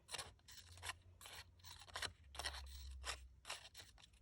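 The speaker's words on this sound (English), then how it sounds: "In between each petal, you're going to make a small slice with your precision scissors." Precision scissors make a series of small snipping cuts between paper flower petals, short crisp snips recurring close up at an irregular pace, with no talking.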